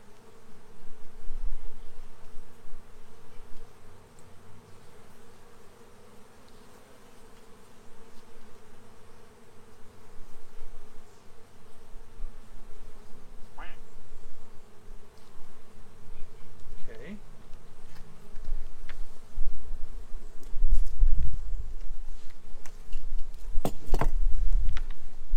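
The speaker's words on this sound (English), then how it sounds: "lightly brush the bees off the board" Honeybees buzz steadily and densely on a hive frame being brushed off, a continuous droning hum with occasional louder passes and faint handling sounds.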